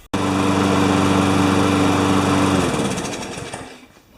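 A Yard Pro walk-behind mower with a Briggs & Stratton Pulsa Prime engine runs loudly up close with a steady buzzing drone, then shuts off and winds down over its last second and a half.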